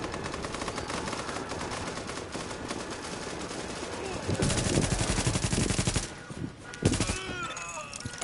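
Rapid automatic gunfire in the video game Tom Clancy's The Division, dense bursts throughout with a louder stretch midway, loud and close, game audio mixed with faint voices.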